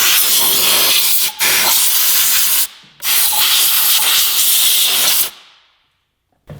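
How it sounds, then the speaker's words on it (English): A compressed-air blowgun cleans around the engine of a 2017 Yamaha R6 sportbike: two long, loud, steady hissing blasts with a brief break between them, then silence. "if you have an air compressor to take a blowgun and just clean the area"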